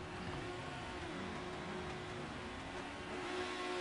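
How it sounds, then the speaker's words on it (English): A racing car engine in a video game drones steadily before a race start, its pitch slowly climbing as the revs build, with a faint game-like quality and no talking. "Hear the revs start to build in a minute."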